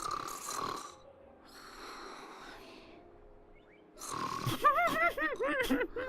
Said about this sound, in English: What are these snoring noises?